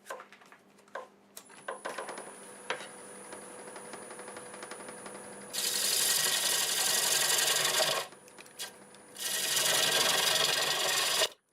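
Black walnut turning on a wood lathe near 700 RPM, a steady motor hum with a high whine, broken by two long, loud bursts of rasping, hissing cutting as a tool strips material from the spinning wood.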